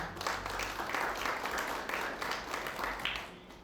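Applause from an audience at a Rudra Puja ceremony at a temple, a steady, fairly faint wash of clapping that lasts throughout.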